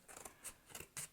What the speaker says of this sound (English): take your scissors and just cut that piece away